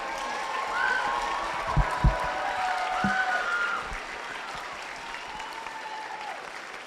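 Steady applause from a big crowd at a robotics tournament, cheering volunteers lining up for high fives, with a few sharper nearby claps and faint whoops over the continuous clapping.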